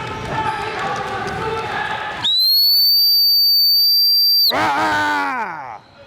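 A loud, steady, high-pitched whistle blast of about two seconds is used to stop a gun dog puppy during training outdoors. It cuts off background talk and noise, and a brief voice comes right after it.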